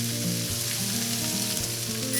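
Pork belly slices frying in a pan at home, a steady dense sizzle and crackle of fat running throughout with no voices.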